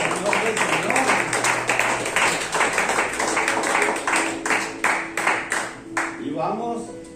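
A church congregation applauds with dense, sustained clapping that carries on throughout, later thinning into more distinct individual claps, with a voice speaking over it.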